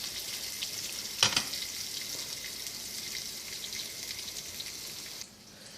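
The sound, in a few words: onions frying in a pan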